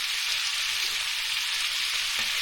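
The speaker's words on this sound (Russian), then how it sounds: "В общем, котлеты жарятся, голубцы варятся, смотрите." Small meat patties (kotlety) sizzle steadily in a frying pan, a dense continuous crackle with a few soft clicks of a utensil, close and fairly loud with no voices.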